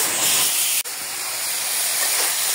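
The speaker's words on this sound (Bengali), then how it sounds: "একটু জল দিই মশলাটা কষানোর জন্য।" Water splashed into spices frying in a hot pan for a Bengali rohu fish curry, with turmeric, chili powder and salt, gives a sharp crackle and then a steady loud steamy hiss that keeps going after the initial burst.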